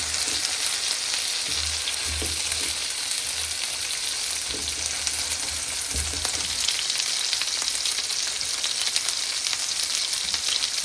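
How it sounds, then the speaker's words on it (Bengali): Onion, garlic and ginger fry steadily in a pan for a fish bhuna, a continuous dense sizzle with occasional stirring knocks and scrapes, close and fairly loud throughout, no voices. "পেঁয়াজ রসুন আদা এগুলাকে সুন্দর মতো কষাবো।"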